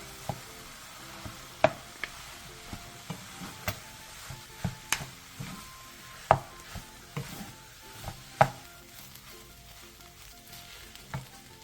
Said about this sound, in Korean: 찬밥 2공기를 넣고 밥과 김치가 골고루 섞이게